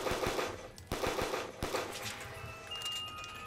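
Rapid automatic gunfire from an Advanced Warfare weapon in Black Ops 3 custom zombies, loud bursts of shots at the start and again around the middle, then a ringing electronic tone from the game.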